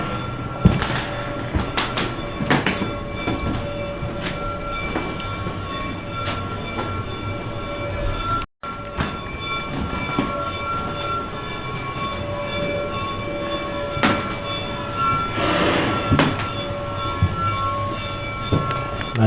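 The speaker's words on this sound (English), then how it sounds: "Nice sounds of the old trains in the background." Old freight trains rumble and clank past Milwaukee Junction in Detroit, with steady wheel noise, squeals and clattering railcar impacts continuing throughout at moderate distance.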